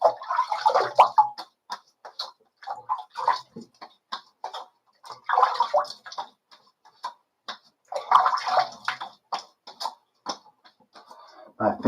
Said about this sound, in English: All right, cold rinse.